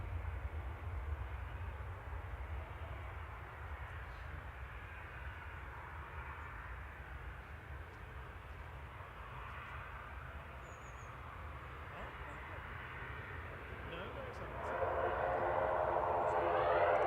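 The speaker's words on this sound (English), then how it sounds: "So we've got another noisy prop taxi now." A propeller aircraft taxiing at Manchester Airport gives a steady, loud engine drone with a broad rumble, continuous throughout and swelling louder near the end.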